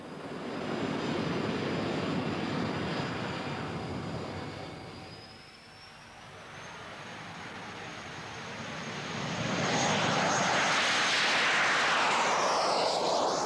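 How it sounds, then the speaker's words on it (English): Jet Provost jet trainer aircraft engine roaring loudly and continuously, with a steady high turbine whine that shifts in pitch midway, dips briefly, then swells again to a strong broadband rush. "The Jet Provost first flew as long ago as 1954."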